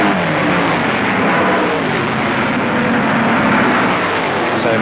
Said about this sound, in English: you'll see him have to brake quite sharply to go around this very tight hairpin bend at Creek Corner